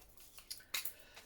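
Several quick scissor snips through fabric, crisp and close, spaced irregularly with a final sharp cut at the end; no voices.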